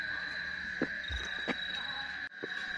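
Steady high-pitched cricket chirring fills the night air in Tomohon, North Sulawesi, with a few soft knocks and footsteps in the background.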